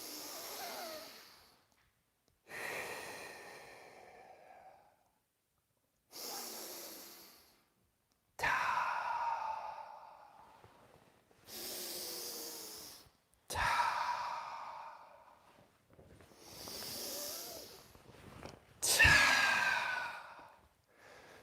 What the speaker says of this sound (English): So we calm down our autonomous nervous system with these deep breathings.